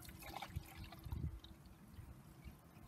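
Coolant pouring into the radiator of a 1989 Dodge Dakota during a flush, a soft continuous liquid trickle and gurgle close by, with low rumbling background and no talk.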